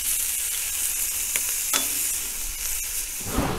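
Onions and hot peppers fry in rendered sucuk fat, giving a steady close sizzle throughout with a few sharp crackles and pops, no talking.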